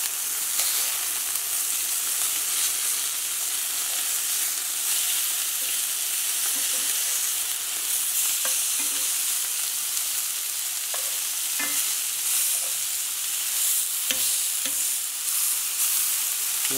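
Chicken breast sizzling steadily in a hot pan right after being flipped, a constant close frying hiss with occasional faint pops and clicks, no voices.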